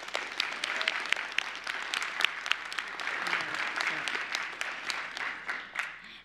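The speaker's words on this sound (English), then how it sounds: "I really wanna be able to applaud them for the amazing job that they did" An audience applauds a boys' volleyball team at a school board meeting, a steady crowd clapping that holds at an even level and sustains for several seconds with no break.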